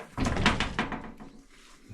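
A metal door on a U.S. General stacked tool cart swings open with a brief rattling clatter and latch noise, then quieter shuffling.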